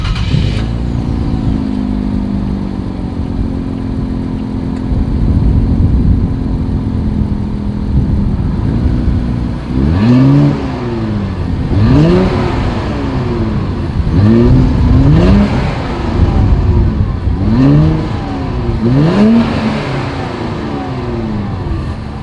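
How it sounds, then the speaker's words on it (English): Exhaust of a 2020 Infiniti Q60 Red Sport 400 idling loudly, then snapping through a series of about six sharp revs that rise and fall in quick succession, close up and without talk. "here is that exhaust clip."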